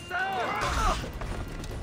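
An explosion in Assassin's Creed Odyssey, set in a harbour, gives a short booming crash with ringing, swooping debris tones that fade within about a second. A player talks over the effect.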